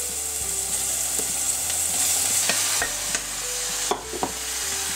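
Frozen food fries in a pan over medium-high heat for mushroom and leek pasta, a constant bright sizzle broken by several scraping stirs and soft knocks, close and without talk.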